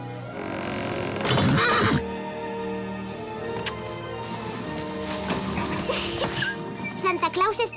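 A horse whinnies in a short burst near the start amid a busy animated-film soundtrack with music and chatter, and fainter squeals come again near the end.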